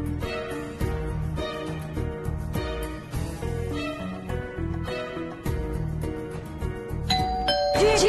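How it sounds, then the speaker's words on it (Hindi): A doorbell chimes inside a house in a Hindi family drama. The bright ding-dong comes near the end over loud background music. "दरवाजे की घंटी ठीक हो गई है जी"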